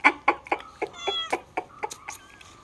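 A cat meows in a quick series of short, sharp calls, about ten in under three seconds, fairly close and clear with no talking over them.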